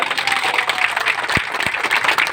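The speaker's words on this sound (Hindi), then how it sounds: "एक बार ताली जरूर बजाइए" Steady, dense applause from a crowd of rural medical practitioners at an outdoor protest gathering, sustained clapping at close range with a couple of louder thumps.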